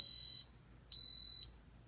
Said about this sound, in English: that beeping means that it has officially started and that it is now on.